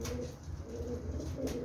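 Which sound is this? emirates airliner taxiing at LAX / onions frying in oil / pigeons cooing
pigeons cooing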